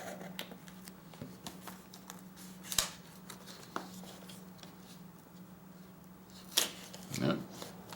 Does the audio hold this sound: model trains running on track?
no